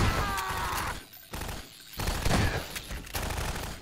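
Automatic turret fire in the video game Half-Life 2, rapid bursts of gunshots in several loud volleys separated by short gaps.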